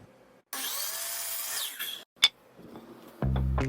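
A power saw slices a 12-degree bevel through a wooden board, giving a short, bright whining cut of about a second and a half. A sharp knock and some light handling clatter follow, and then a motor hum starts up close by.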